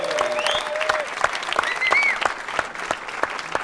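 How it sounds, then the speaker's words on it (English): Audience applause after a band's set at a live music show, steady clapping from a crowd with a few whistles rising above it. "we have a round of applause"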